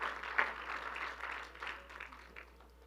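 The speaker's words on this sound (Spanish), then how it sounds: "dele un fuerte aplauso" Church congregation applauding after a sermon introduction, a steady, moderately faint wash of clapping that swells and gradually thins out over a few seconds.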